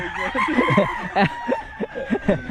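A rooster crows in several drawn-out, rising and falling calls, fairly close and clear, with faint clucking from other fowl around it.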